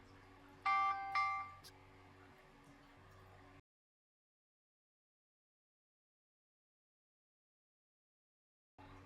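A kids' smartwatch emits a short find-device alert: a few bright electronic beeps in quick succession over low hum, then the recording cuts to silence.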